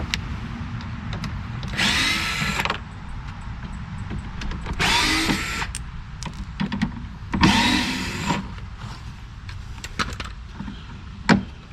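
A power tool whirs in three separate bursts, each a couple of seconds long, removing bolts from an Audi Q7 bumper, with quiet handling noises in between.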